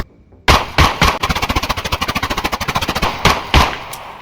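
Automatic gunfire from FMJ rounds in the shooter game Exfil Zone: a few heavy single shots open, then a long rapid burst of evenly spaced loud reports, followed by two more isolated shots.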